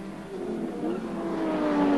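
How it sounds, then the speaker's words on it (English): Pack of 1990 touring race cars at Phillip Island, one running rough, engines droning steadily and growing louder with a rising whine as they approach. "There's definitely one of the cars in that pack making some ugly sounds."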